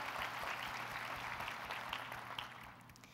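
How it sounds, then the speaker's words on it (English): An audience applauds a speaker at a talk, a fairly faint, steady wash of clapping that fades slightly toward the end, heard from a distance. "So let's have a round of applause for Jan Zanitas."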